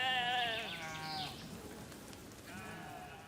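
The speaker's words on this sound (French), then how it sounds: "les moutons appellent leurs congénères, qui répondent avant de se précipiter sur place" Several sheep bleat in turn, calling and answering one another near a sheepfold, clear harmonic cries at the start and again near the end with quieter rustling between.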